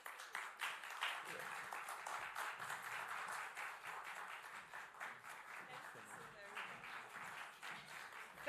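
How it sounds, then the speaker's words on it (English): An audience at an AHEM Nigeria event applauds a speaker, many hands clapping in a steady, dense burst at moderate distance, holding evenly throughout with faint voices beneath. "Can we give him another round of applause, please?"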